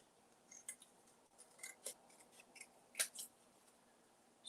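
Scissors cut a window out of a paper craft leaf: a handful of quiet, close snips and crisp clicks spaced irregularly, with one sharper cut near the end.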